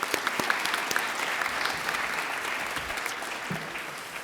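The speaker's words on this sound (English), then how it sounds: "How about a round of applause from this?" An audience applauds at a Sheridan chancellor announcement ceremony: a dense, steady wash of many hands clapping at close range, holding level for several seconds with no voices over it.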